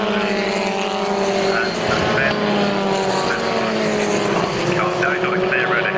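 Historic Formula Ford racing cars roar past at Brands Hatch in a loud, continuous engine drone with rising and falling tones as they battle for position.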